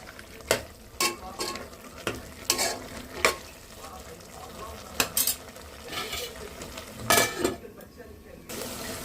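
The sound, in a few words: tomatoes cooking in a pan with stirring for boti curry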